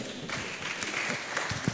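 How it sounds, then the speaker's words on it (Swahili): An audience at a young entrepreneurs programme at MMUST applauds for Bishop, a short burst of steady, dense clapping filling the hall without voices on top. "makofi ya Bishop"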